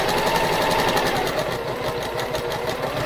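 A sewing machine runs continuously as it stitches pieced quilt fabric, a steady close whirring mechanical hum with a fast regular rhythm, fairly loud, with no talking.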